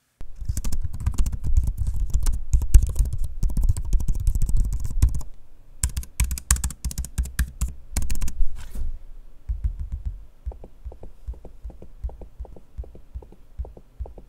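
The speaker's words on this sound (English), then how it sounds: "Here's a sample I'm using both the keyboard and trackpad so you can hear for yourself." Rapid, close clicky keystrokes on a Dell XPS 14 laptop keyboard, pausing briefly, followed by slower, sparser taps and clicks on its trackpad.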